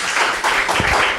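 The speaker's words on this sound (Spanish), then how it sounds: "Aplausos." Brief burst of audience applause at a comic book launch and band performance, many hands clapping in a dense, lively patter close by, with no talk over it.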